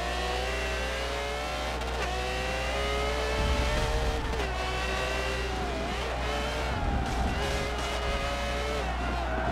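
A Ferrari F50 engine screams in Forza Motorsport 7, revving high through repeated upshifts and rising pitch sweeps. It stays loud and close throughout, with brief tire squeal and skidding in places and no talking over it.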